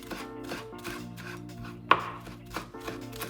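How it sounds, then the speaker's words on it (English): A knife chops a small bunch of sage leaves finely on a board: a steady series of crisp, close cuts with one sharper knock, over soft background music. "we start by chopping a small bunch of"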